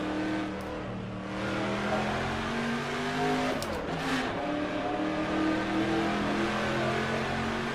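A V8 touring car engine in the rFactor 2 racing game drones and revs loudly, its pitch rising and falling through gear changes, with a brief tire squeal partway through.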